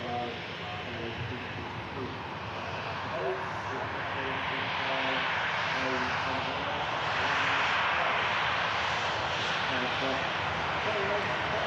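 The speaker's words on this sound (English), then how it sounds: "Sun Express flight 2 Antalya on the taxi." SunExpress airliner bound for Antalya taxiing at Manchester Airport, a steady, loud jet engine roar that swells slightly midway, with voices talking over it.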